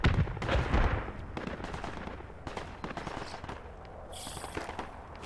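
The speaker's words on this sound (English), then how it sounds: "Oh my god, grenade." A grenade goes off in the Project Reality military shooter, one heavy booming blast at the start that rolls off, followed by scattered distant gunshots and cracks, with no talking.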